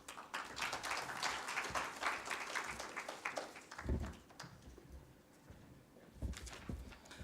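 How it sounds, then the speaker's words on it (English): Audience applause at a fertilizer-market website launch event, a broad wash of clapping for the first few seconds that fades, with a few low thumps and scattered claps afterward. "Another round of applause for the program lead."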